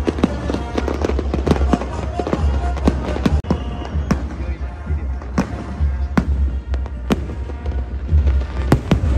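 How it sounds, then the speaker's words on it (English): Fireworks at the 2023 Jakarta Fair in Indonesia pop and crackle in sharp, repeated bursts over a steady crowd murmur, with voices talking in the background. "Now the fireworks is finished"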